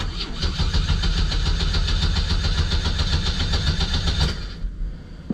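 A Chevy Vega engine cranks and catches, then runs with a steady, loud mechanical chatter for several seconds before cutting off abruptly, with no voices over it.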